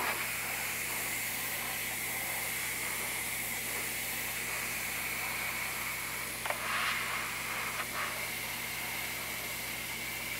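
An airbrush sprays orange paint onto a quarter-scale Aquaman sculpture, giving a steady, even hiss throughout with a couple of faint clicks partway through.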